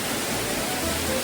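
Upper Duden Waterfall in Antalya sends out a dense, even rush of falling water, heard steadily and alone with no voices.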